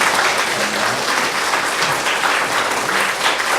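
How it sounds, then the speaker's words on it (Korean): Continuous congregational applause at a church service celebrating a new education hall, a dense, even wash of clapping without pause. "이럴 땐 박수 계속 하는 게 좋습니다."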